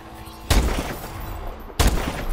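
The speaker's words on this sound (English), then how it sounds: "Now we got the last sniper, which is the SVO, and this is my personal favorite sniper in the game." Two loud, sharp cracks from the SVO sniper rifle in Call of Duty Advanced Warfare, spaced over a second apart, each trailing off in a long rumbling echo.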